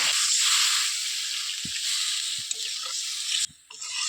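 Water poured into hot frying masala for a banana flower curry (mochar dalna) sets off a loud, steady hissing sizzle that drops off sharply near the end before briefly swelling again.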